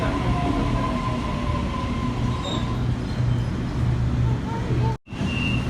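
Sydney train on the Richmond service pulling out of Parramatta station, a steady loud rumble of wheels and carriages with faint squeals and a station announcement voice over it, the noise dropping out briefly near the end.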